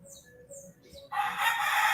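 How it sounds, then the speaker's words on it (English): A rooster crows nearby, preceded by a few faint thin bird calls and followed by a louder burst of crowing. "But if there's roosters nearby, you're going to hear them."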